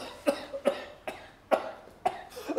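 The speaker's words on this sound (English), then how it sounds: "How long have you had that cough?" Five separate coughs from a sick man in a cellar, each a sharp, harsh burst spaced roughly half a second apart, close and moderately loud with no talking.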